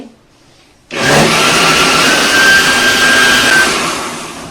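A mixer grinder roars steadily and loudly for several seconds as it grinds dosa batter for sponge dosa, starting abruptly after a quiet moment and running without pause.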